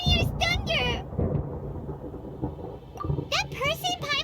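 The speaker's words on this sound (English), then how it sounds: "Paimon hears thunder!" Thunder rumbles low and steady in the video game Genshin Impact, between and under bursts of animated character speech.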